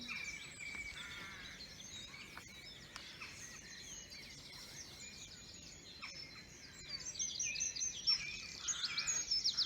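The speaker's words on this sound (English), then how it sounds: "one of our smallest birds, the wren, and it is very loud call for its song" A wren sings in an April dawn chorus, with rapid high trilling phrases repeating over the span, other birds calling faintly around it and the song growing louder and closer toward the end.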